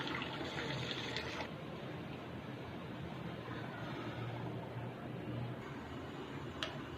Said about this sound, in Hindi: बहुत एहतियात के साथ पानी ड्रेन कर लें सारा इसका।